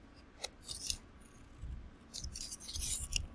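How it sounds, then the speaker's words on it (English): Scissors snip through paper in a series of crisp, close cuts, with short pauses between the strokes and no talking. "I grab the scissors and I'm going to cut up on this line"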